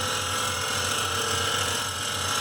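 A lathe rough-cuts a custom Mopar bushing at 2 thousandths per rev with a 40-thousandths depth of cut. It gives a steady, close mechanical hum with a constant whine and a faint low throb throughout.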